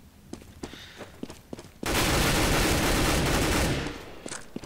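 Gunfire in the video game CS:GO on the Dust 2 map: scattered sharp single shots at first, then a sustained loud burst of rapid firing lasting about two seconds before tapering into a few more isolated shots.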